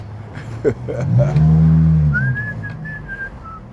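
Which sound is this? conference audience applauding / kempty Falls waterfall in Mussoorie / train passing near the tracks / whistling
whistling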